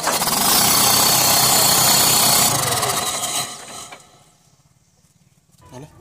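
A JCB 3DX backhoe loader's diesel engine roars loudly for a few seconds, then drops off to a low idle rumble and a faint mechanical clatter, with no talk over it.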